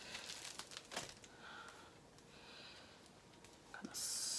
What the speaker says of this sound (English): hear the crinkling and see the stuffing